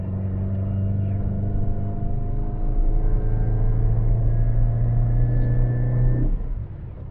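A Great Wall Wingle campervan's engine while driving, a steady droning hum inside the cabin that rises in pitch slightly, then drops away toward the end as the revs fall.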